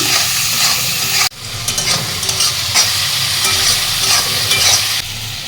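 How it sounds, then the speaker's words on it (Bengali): Shrimp fry with salt and a little turmeric in a pan among onion, garlic and chilli, hissing steadily while being stirred, with a sharp clatter near the start and no talk. "দিয়ে মাছটা ভাজা ভাজা করে নিচ্ছি"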